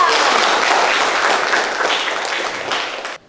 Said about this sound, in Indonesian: Nah, tepuk tangan untuk kita.